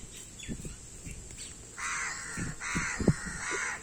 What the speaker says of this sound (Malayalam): അവൻ്റെ ഒപ്പം കാക്കകളും വന്നിട്ടുണ്ട്. കാക്കകൾക്കും ഭക്ഷണം വേണം.